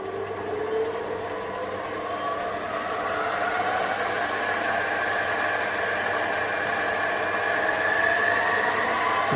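A benchtop SP2102 mini lathe runs in low gear at low speed with a steady, smooth whir and a slowly rising tone as it spins up, alone and close.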